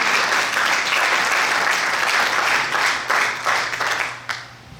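A church congregation applauds in a dense, steady wave of clapping that continues for several seconds, then thins out and fades near the end.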